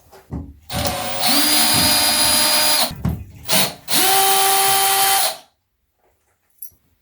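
A power drill backs screws out of Delta bathtub faucet handles in two close, loud whirring bursts with brief stops between them, then falls silent.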